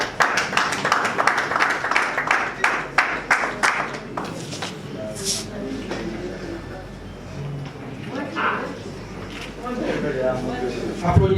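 Audience clapping at a French-speaking political gathering, rhythmic and fairly close for about four seconds, then fading into murmur and voices, with a renewed swell of clapping near the end.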